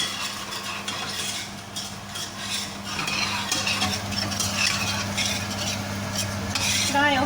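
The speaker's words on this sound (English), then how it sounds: "I'm now going to add about a tablespoon of tomato puree. And then just give that a mix in," Vegetables and tomato puree get stirred in a hot pan, a steady scraping of the utensil over a soft sizzle of frying, close and moderately loud with no talk.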